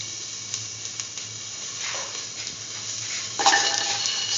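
Shallots and garlic sizzle steadily in hot oil in a pan, a soft continuous hiss with occasional stirring clinks, swelling louder near the end as the pan is stirred.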